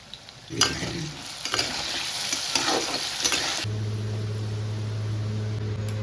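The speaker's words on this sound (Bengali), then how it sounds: "এবার কড়াইতে সর্ষের তেলে মুঠিয়াগুলো দিয়ে ভালো করে ভেজে তুলে নেব" Chital fish muthia frying in mustard oil in a wok, a loud close sizzle with crackling and stirring for several seconds, then a steady low appliance hum once the frying sound stops.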